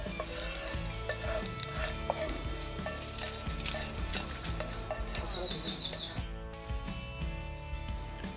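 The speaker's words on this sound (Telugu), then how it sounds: "వేగిపోయింది, పోపు వేగిపోయింది." Fenugreek seeds, mustard seeds, asafoetida and dried red chillies fry in a pan for tempering. A steady sizzle runs under repeated scraping and clinking stir strokes throughout.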